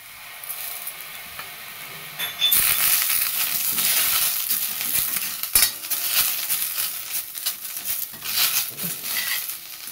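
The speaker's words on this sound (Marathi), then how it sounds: "मंद आचेवरच भाजायचं, गॅस फास्ट नाही करायचं." Curry leaves roast in a pan over a low flame, giving a dry crackling sizzle with repeated stirring and scraping of a utensil against the metal, close and continuous.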